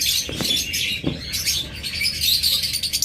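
A pair of blue opaline pet birds offered for sale chirps and tweets steadily in short, high bursts against a busy background, with a few soft rustles.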